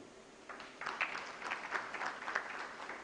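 Applause from a diabetes conference audience, moderately distant, a steady patter of clapping that starts after a quiet moment and continues throughout.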